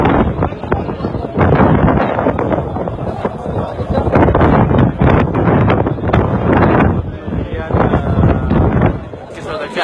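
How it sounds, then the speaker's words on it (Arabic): Strong wind roars around the Kaaba at Masjid al-Haram during evening prayer, a loud, continuous gusting rush that buffets the microphone in surges, with voices faintly mixed underneath. "رياح شديدة أثناء صلاة المغرب ردت في المسجد الحرام"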